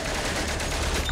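Gunfire from the World War I video game Valiant Hearts, a dense continuous burst of shots at steady loudness filling the short stretch with no speech.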